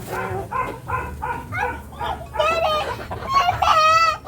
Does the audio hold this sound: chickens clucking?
yes